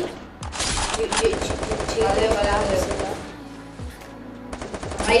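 Rapid bursts of automatic gunfire in the Free Fire video game, dense repeated shots in quick rattling volleys with short pauses between them, loud and close, with a player talking over the shooting.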